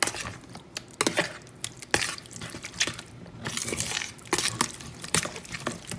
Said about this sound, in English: Now I'm gonna mix it around